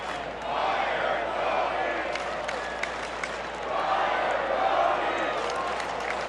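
White Sox fans at a baseball game against the Rangers jeer their manager Tony La Russa, a large stadium crowd roaring in a sustained wash of shouts and voices that swells and sags, with scattered claps and yells, heard from a distance.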